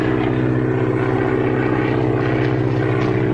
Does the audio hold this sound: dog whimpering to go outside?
no